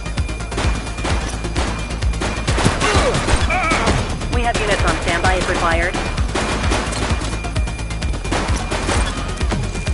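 Rapid bursts of gunfire in The Precinct, a police video game, crackling loud and dense throughout, with shouted voices and radio chatter mixed in under the shots.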